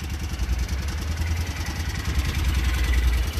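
A BMW Isetta microcar's small engine runs steadily up close, a throbbing low clattering putter with slight rises in revs throughout, no voices.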